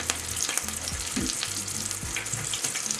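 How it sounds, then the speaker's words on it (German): Steady, close sizzling and spattering of food frying in a pan for homemade cheeseburgers, a continuous crackle with a few clanks and scrapes in the background, no voices. "Wenn ich was brate."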